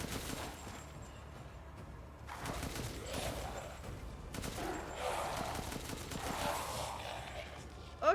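Gunfire from a weapon in the video game Resident Evil 8, with bursts of shots spread across the clip over a steady game backdrop, fairly faint overall with a sharp loud hit at the very end.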